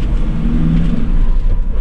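A Mercedes Sprinter 313 fridge van with a 129 bhp engine idles steadily, a loud, close, continuous low rumble with no voices.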